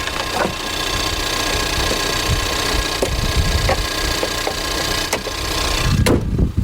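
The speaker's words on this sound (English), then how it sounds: "Listen to this thing tick, tick, tick, tick, tick." A 2021 Ford Bronco Sport's turbocharged engine runs steadily close by with hood closed, a fast light ticking riding over the low hum, with a sharper knock near the end.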